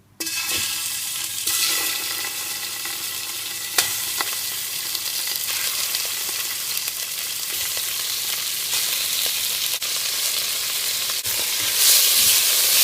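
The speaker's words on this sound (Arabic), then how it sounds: "كمية قليلة من الزيت، ما أكثر. أريد أشوح اللحم" Meat sears in a small amount of oil for an Iraqi torshana dish, giving a continuous loud sizzle with occasional stirring scrapes and clicks, and no voices.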